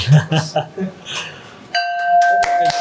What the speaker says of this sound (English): let us ring the success bell